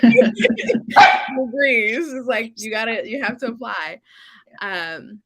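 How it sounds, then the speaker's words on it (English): A working dog barks in short bursts while people keep talking over it, the barks mixed into the conversation. "Sorry for my working dog."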